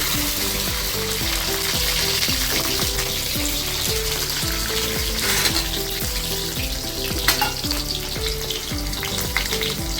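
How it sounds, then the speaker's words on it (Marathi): Green chillies fry in hot oil in a pan with a loud, steady sizzle and crackle that holds for the whole stretch, with no talk over it. "तेल काढलेलं आहे, त्यात मिरच्या घालून घ्या।"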